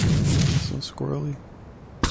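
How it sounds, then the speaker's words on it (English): Shocking tranquilizer darts fire in the video game Ark Survival Evolved on Xbox One, a few short sharp shots separated by pauses, close and moderately loud, with a voice speaking between them. "I'm just wasting shocking trank darts"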